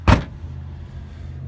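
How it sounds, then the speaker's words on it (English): A car door with sagging, worn hinges swings closed with a single short thud and fails to latch, followed by a low, steady idle hum. "when you open the door kind of hangs down a little bit, and then we try to close it"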